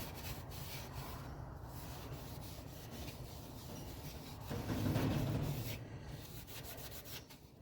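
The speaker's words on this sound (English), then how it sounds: "It's very challenging sanding" Sandpaper rubbing against an English oak square footed bowl on a lathe, a steady close scratchy hiss that swells louder in the middle before easing off, with no talk.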